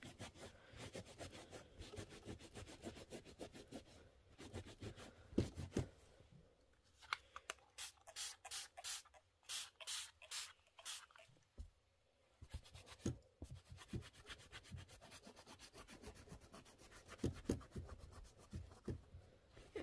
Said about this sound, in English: Gently rub.